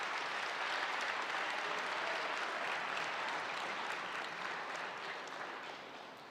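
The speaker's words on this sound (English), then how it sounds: "So, yeah, we can definitely clap that up." Steady, dense audience clapping at a Cary Academy jersey retirement ceremony for Trey Murphy III, a sustained wash of many hands that gradually tapers off toward the end.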